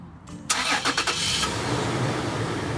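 A Toyota 4Runner starts by remote start: a brief starter crank, then the engine catches with a few surges and settles into a steady close idle.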